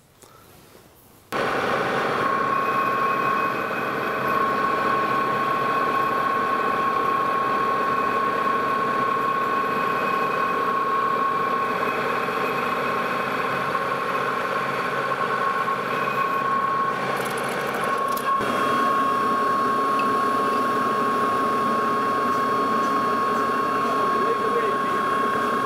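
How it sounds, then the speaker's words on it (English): A metal lathe takes a few light finishing cuts in a bore for a custom arbor for a Syracuse spindle sander, a steady machine whine with a sharp tonal ring that starts after a quiet second and runs on evenly, without talk. "So I'm gonna take just a few more thousandths off of that bore, and we'll check this fit one more time."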